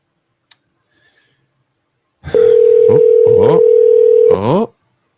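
A telephone line on a call gives a loud, steady electronic tone that holds for about two seconds. It is broken and followed by short warbling tone sweeps, after a brief click and near silence.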